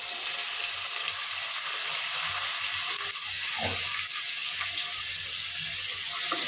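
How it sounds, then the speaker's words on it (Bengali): Onion frying lightly in a pan, a steady, loud broadband sizzle throughout with occasional soft clinks of stirring and no talking. "পেঁয়াজটা আমি হালকা করে ভেজে নেব।"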